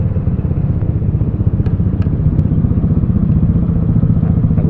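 A motorcycle with an open muffler idles and revs nearby in city traffic, a loud throbbing low rumble with a few clattering knocks, no talk over it.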